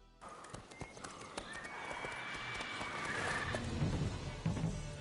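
Roach, a horse in The Witcher video game, trots with quick clip-clopping hooves, then lets out a drawn-out neigh near the middle, while the hoofbeats and rumbling movement grow louder toward the end.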